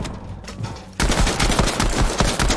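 Loud, rapid automatic gunfire in a video game, starting abruptly after a quieter moment and continuing as a dense rattle of shots to the end.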